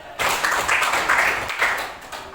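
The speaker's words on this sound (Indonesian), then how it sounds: "Tepuk tangan dulu." An audience in a school training session claps together, a loud, dense burst of applause that swells and fades in waves over a couple of seconds with no voices on top.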